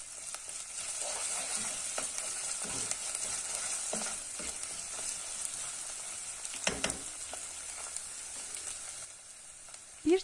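Pepper paste frying in a soup pot for a chickpea vermicelli soup, a continuous soft sizzle with occasional stirring scrapes, close and moderately quiet, without talk.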